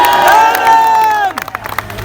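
A large crowd at an outdoor political rally in India cheers and shouts loudly, voices swelling together and then breaking into scattered yells toward the end.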